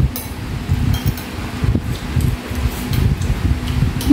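Steady outdoor wind rumbles and buffets the microphone with a low, continuous roar, and faint rustling and a few light clinks sit over it with no one talking.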